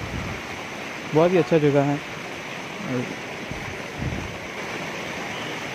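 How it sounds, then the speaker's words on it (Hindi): Water pouring at Bhatinda Falls near Dhanbad makes a steady broadband rush that runs throughout, with someone speaking briefly over it. "देख सकते हैं पानी का बहाव भी अच्छा है"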